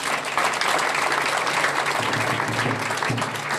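Sustained applause from an audience at a political gathering in the Democratic Republic of the Congo, a dense, steady wash of clapping that stays loud and even for several seconds with no speech over it.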